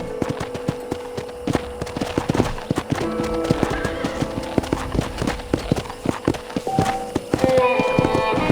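Horse hooves in Red Dead Redemption as a rider heads toward a ranch; a brisk, continuous clip-clop of hooves close by, mixed with occasional whinnies and background game ambience.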